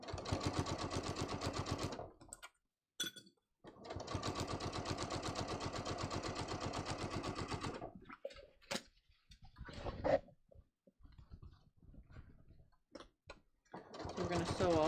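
A sewing machine stitches slim trousers in long bursts of rapid mechanical whirring, pausing between runs with softer clicks and handling noises, close and clear.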